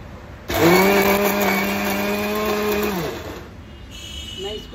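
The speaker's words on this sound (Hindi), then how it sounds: "मिक्सी में मैंने इसे पीसा है" A mixer grinder grinding soaked lentils coarsely whirs loudly for a few seconds with a steady, high motor whine, then spins down and stops, leaving quieter background sounds.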